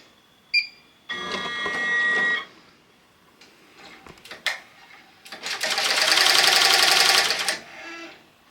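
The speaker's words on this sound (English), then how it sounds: "Let's do our first stitch out." A SmartStitch S1501 embroidery machine stitches out its first design, short bursts of rapid mechanical needle chatter broken by pauses and clicks, then a longer loud stretch of fast stitching, close by.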